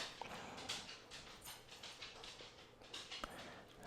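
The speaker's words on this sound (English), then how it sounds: "If you can hear my dog, I'm sorry." A pet dog whimpering and shuffling indoors, faint soft whines and small scattered clicks and taps at a low level over a quiet room, no voices.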